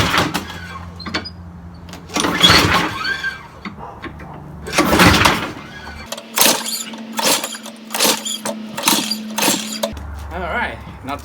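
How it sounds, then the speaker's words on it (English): A PowerSmart snow blower's starter cord is yanked in repeated sharp pulls, each a brief burst of ratcheting whir, over a low steady hum with no engine catching. "I'm gonna try to start it by putting in the gas."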